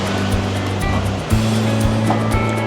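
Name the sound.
Caribbean ocean waves on the beach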